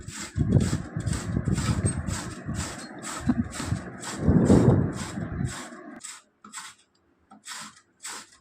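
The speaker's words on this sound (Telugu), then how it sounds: "వీటన్నిటిని పీలర్ సహాయంతో నేను తురుముకుంటున్నాను" Carrots are grated with a hand peeler, giving steady rhythmic rasping scrapes close up; the strokes thin out into a few sparse, quieter scrapes near the end.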